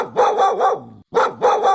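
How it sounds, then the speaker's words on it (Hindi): A big dog barks loudly and close in two quick bursts of three or four rhythmic barks each, separated by a short silent gap. "मेरे पीछे बहुत बड़ा कुत्ता पड़ा था साथियों"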